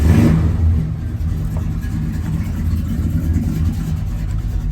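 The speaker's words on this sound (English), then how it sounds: "Got good sound," A 1972 Chevrolet K10 four-wheel-drive truck with dual exhaust runs with a loud, deep, rumbling engine note that surges at first and then settles into a steady, throaty idle close by.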